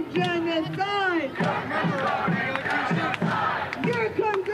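A dense crowd at a street rally in solidarity with University of Toronto encampment protesters shouts and chants in unison, loud rhythmic bursts of many voices filling the whole stretch.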